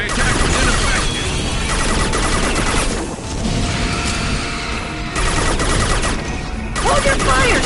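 Sustained rapid gunfire and impacts from a sci-fi shooter game roll on almost without pause, dipping briefly twice, with voices talking over the din.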